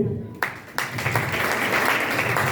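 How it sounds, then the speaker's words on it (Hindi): A church congregation breaks into applause, with dense clapping that swells after a couple of sharp starts and then holds as a steady, loud wash of many hands. "आइए परमेश्वर को धन्यवाद देंगे ताली बजा करके।"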